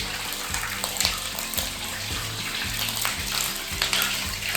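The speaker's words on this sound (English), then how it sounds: "Shower tap is working." Water from a shower in a newly renovated bathroom runs continuously at close range, a dense hiss of spray with a low rhythmic thrum beneath it.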